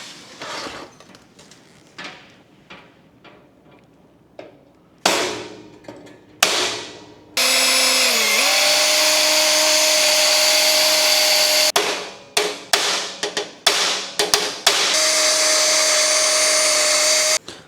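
A power drill whines loudly through metal in a long sustained run, its pitch dipping under load, with shorter bursts and clanks of tool handling before and after.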